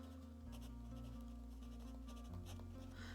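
Pen scratching across paper while writing in a bullet journal, a brief run of small scritching strokes over a steady low background hum.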